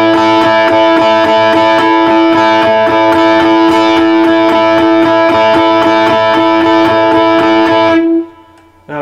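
Overdriven electric guitar plays a slow 12-bar blues riff in A of repeated two-note double stops, loud and sustained, ending abruptly with a brief silence.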